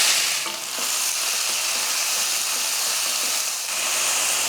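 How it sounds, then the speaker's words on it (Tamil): Onions and curry leaves sizzle steadily in hot coconut oil, a loud, continuous broadband frying hiss with a brief dip partway through, alone with no voices. "எண்ணெய் காஞ்சதுமே கொஞ்சம் கருவேப்பிலை போட்டு நம்ம தட்டி வச்சுருக்க வெங்காயத்தை சேர்த்துடலாம்."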